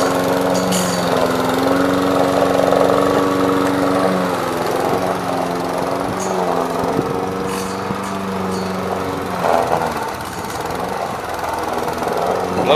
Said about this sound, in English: it's a little hard to push in the snow sometimes, but you can see it's doing a fine job cutting the lawn